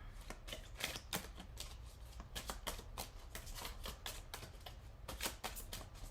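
A deck of tarot cards is shuffled by hand in quick, crisp riffles and slaps. The bursts come in irregular clusters, close up and fairly clear, with no voice.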